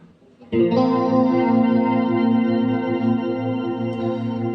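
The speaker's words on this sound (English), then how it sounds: "So that's an octave delay and the particle reverb." Electric guitar played through a Boss MS-3 with an octave delay and particle reverb, one sustained chord ringing out with a shimmering, chorus-like wash and steady level after a quick attack, no voices.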